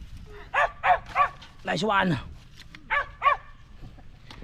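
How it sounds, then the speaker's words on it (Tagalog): A dog barks and yelps during outdoor coconut gathering, giving a few short barks and a longer whining cry at moderate distance, mixed with people talking nearby. "May aso."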